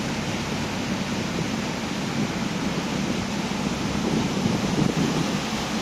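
Fast-flowing floodwater of the swollen Mun river near a village, a steady broadband rush that holds constant and close throughout, with no pauses.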